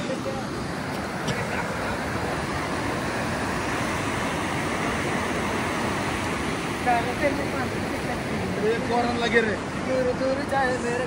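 Hot spring water flowing at a gurudwara makes a steady, full rushing wash that runs unbroken throughout, with faint voices of people nearby.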